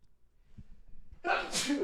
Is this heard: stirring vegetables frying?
no